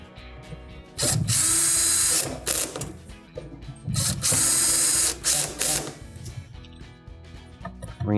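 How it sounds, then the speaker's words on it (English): A power driver runs in bursts, driving T15 screws into the burner base of a Viking cooktop during a stain repair. There are several loud whirring runs with short stops between them, heard close and alone with no talking. "Resecure the burner base with the T15 screws."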